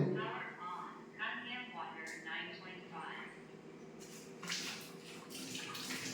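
Someone talks while water starts pouring steadily from a water ionizer's spout into a container, a close splashing stream that continues to the end.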